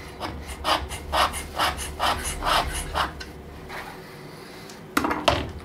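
A hand scraper takes short chips from a flat metal surface, about eight evenly spaced rasping strokes, close and distinct, followed after a pause by a couple of sharper, harder scrapes.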